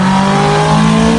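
A Honda VTEC engine revs hard with its variable valve timing engaged, giving a loud, steady high-pitched howl with strong harmonic tones that hold nearly constant through a short burst.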